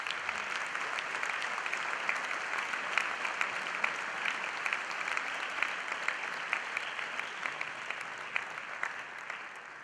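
An audience at a literary awards ceremony applauds loudly and steadily, a dense sustained clapping from a large crowd that carries on throughout without a break.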